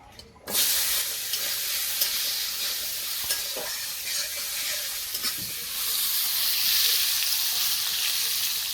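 Vegetables drop into hot oil tempered with radhuni, panch phoron and cumin, setting off a sudden loud hissing sizzle that stays strong and close with faint stirring clatter.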